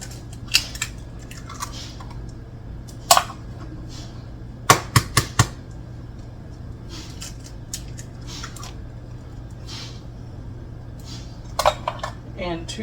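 Eggs are cracked into canned pumpkin in a mixing bowl for chocolate chip pumpkin bread, giving a few sharp taps and clinks against the bowl amid quiet kitchen handling, with a steady low hum underneath.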